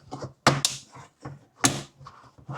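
Parts of a plastic slim rolling bathroom storage cabinet are snapped together, giving several sharp, hollow plastic clicks and knocks at irregular intervals, close and crisp, with quieter handling rustles between them.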